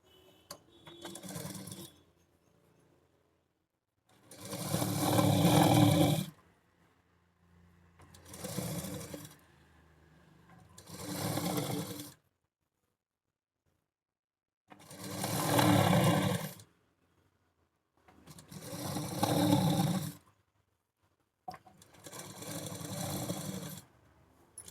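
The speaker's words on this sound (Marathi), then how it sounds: "आता याच्यावर पण डबल शिलाई मारून घ्यायची." A sewing machine double-stitches the sleeve seam of a tucked blouse, running in about seven close, steady bursts of rapid needle chatter separated by short quiet pauses.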